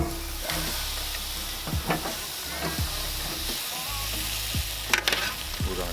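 Bone-in St Louis cut pork ribs set down into a hot pan, with a steady close sizzle and frying hiss and a few soft knocks and scrapes throughout.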